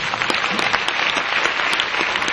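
An audience at a comedy kavi sammelan poetry gathering in Ujjain breaks into dense, sustained applause, steady and loud throughout with no talking over it.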